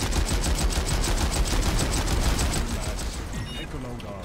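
Rapid automatic gunfire in the online shooter PlanetSide 2, a steady close burst of fire rolling for several seconds before easing off, with a voice briefly heard near the end.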